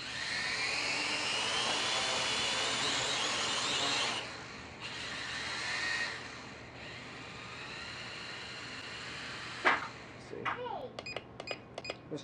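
Kai Deng K70C Sky Warrior drone's motors giving a loud, high whine close by for about four seconds, fading and cutting out, followed by a run of short electronic beeps.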